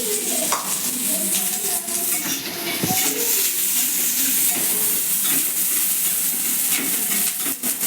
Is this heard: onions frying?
yes